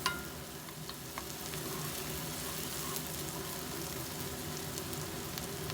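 Onions fry in hot oil with a spoon of ginger-garlic paste and curry leaves for a cauliflower potato kurma, a dense, steady sizzle with faint crackles and occasional stirring throughout.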